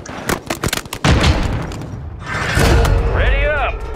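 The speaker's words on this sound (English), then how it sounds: "Grenade out!" A grenade blows up in a video game as a heavy boom after a quick run of sharp clicks and impacts, then a rumbling tail under a spoken voice.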